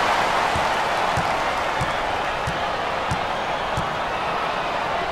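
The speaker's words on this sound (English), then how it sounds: "this hometown crowd is showing their appreciation" Home crowd in an NCAA Basketball 10 college game between Valparaiso and Evansville, a steady wide roar of cheering and applause throughout, with faint ball bounces thumping at regular intervals underneath.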